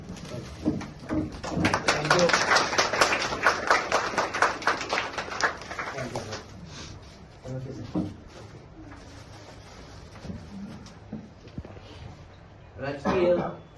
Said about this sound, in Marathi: सरांचं जोरदार टाळ्या वाजून तुम्ही स्वागत करायचं आहे